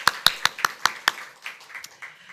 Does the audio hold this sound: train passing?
no